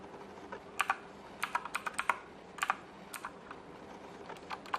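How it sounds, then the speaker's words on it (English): Fingers type on a laptop keyboard in quick irregular bursts of soft plastic key clicks, close and fairly quiet, with short pauses between runs and no talking. "I can just type on the keyboard. The laptop keyboard"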